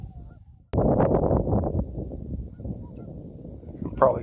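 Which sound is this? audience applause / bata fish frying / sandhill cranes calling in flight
sandhill cranes calling in flight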